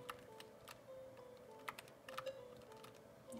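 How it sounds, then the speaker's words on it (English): Rapid, hard key presses on a computer keyboard and game controller during play, a dense series of sharp clicks with a few louder taps, close and fairly quiet over a steady low hum. "I'm, like, pressing really hard on the controller and keyboard."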